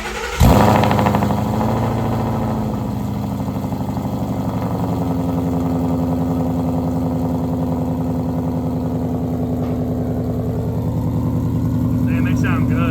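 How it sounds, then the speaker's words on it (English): A 2017 Ford Mustang GT with long-tube headers and an E85 tune fires up from cold: a sharp crank and catch, then a loud, deep, steady idle burble that runs on under faint voices. "First cold start fire up with the long tubes."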